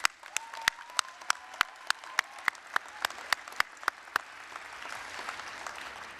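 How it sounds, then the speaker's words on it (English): Applause at an ESL and GED graduation ceremony rings out as sharp, evenly spaced claps that stand out clearly over a soft room wash and then fade into a looser murmur near the end. "Give yourselves another round of applause."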